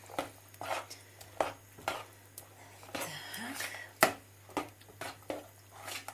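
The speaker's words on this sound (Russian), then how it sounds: "Так, перемешиваем." A cottage cheese filling with turmeric being stirred for a German-style cheesecake, heard as a rhythmic series of soft clacks and scrapes of a utensil in a bowl, with a low hum and faint breathy voice sounds.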